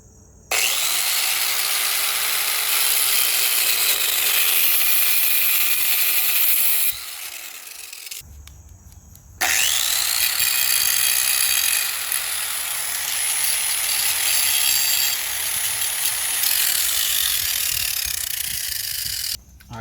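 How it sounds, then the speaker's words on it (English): A hook on a 2003–2009 Toyota 4Runner being sawn off by hand: long, loud, steady rasping strokes that stop briefly and then resume for a second extended stretch, close up with no speech. "I'm going to cut it off. Use a handsaw, angle grinder, whatever you got."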